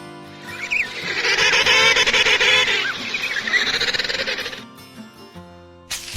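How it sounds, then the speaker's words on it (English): An emperor penguin of Antarctica gives loud, repeated trumpeting calls for several seconds. The calls rise and fall in pitch, then stop, followed by a brief separate sound at the end. "It's the emperor penguin."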